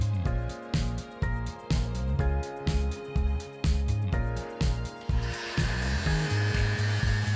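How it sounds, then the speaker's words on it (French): An angle grinder cuts a tube to length during a renovation, a loud steady whine with harmonic tones that surges and dips in a regular pulsing rhythm, then grows rougher and shifts pitch near the end. "Une fois le marquage effectué, raccourcissez-le avec une meuleuse."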